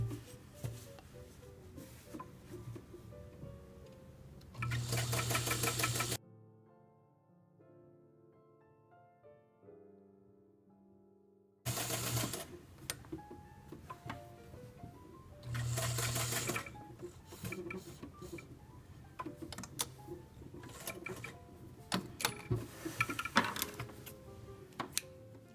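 A sewing machine stitches fabric for a table runner in several runs, with bursts at the start and two more later, each breaking off briefly around a quieter pause.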